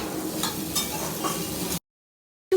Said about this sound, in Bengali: সেদ্ধ করা আলু ফুলকপি দিয়ে দিলাম। এটা গ্যাস বন্ধ করেই ওই গরমেই নাড়ছি।